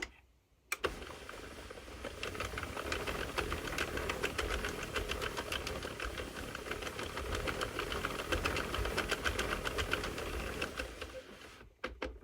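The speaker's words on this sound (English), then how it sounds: "we will knit a few rows until it falls off of the machine" A hand-cranked circular knitting machine knits rows of a fishnet sock, giving a continuous dense clatter of rapid mechanical ticks at a steady pace, fairly quiet and close, with no talk.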